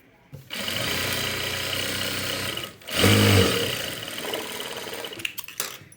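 Sewing machine stitching blouse lining, a steady close mechanical whir that pauses briefly, then resumes with a louder, heavier burst before slowing and stopping.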